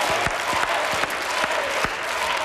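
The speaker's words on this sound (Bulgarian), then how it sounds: "Аплодисменти за Ели и Марин!" Studio audience applauding at a televised Music Idol performance show, a loud, full burst of clapping with a few sharp individual claps and some voices in the crowd.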